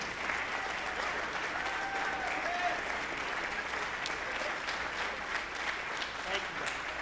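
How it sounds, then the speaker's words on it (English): Students' seniors at a spring high school band concert receive a round of applause: dense, sustained crowd clapping heard from a distance, fairly soft and even throughout. "I think they all deserve a round of applause at least"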